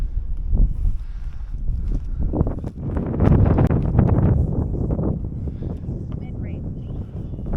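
Strong wind buffets the microphone in steady, rough gusts while an RC plane is flown, with a person talking over the blustery noise throughout.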